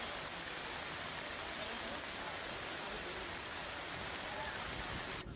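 Water released through the open gates of the Karjan dam in Narmada pours into the river as a steady, distant, hissing roar like a waterfall, unbroken and fairly faint.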